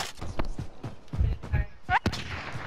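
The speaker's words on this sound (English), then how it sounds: "Someone shot at me. Yeah, I heard it. Sniper on the right." A sniper shot cracks in the video game Call of Duty Warzone, a sharp report amid a quick cluster of other game impacts and movement noise, with no talking over it.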